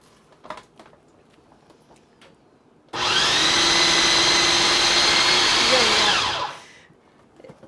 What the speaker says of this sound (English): So if you can go ahead and chop or blend that, puree it, blend it, however you want to do it.